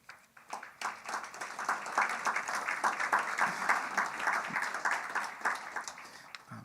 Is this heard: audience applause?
yes